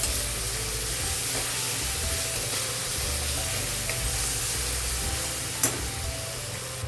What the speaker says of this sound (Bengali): একদম ভালো করে ভেজে নিতে হবে আদা রসুনের যে কাঁচা স্মেলটা চলে যাওয়া চাই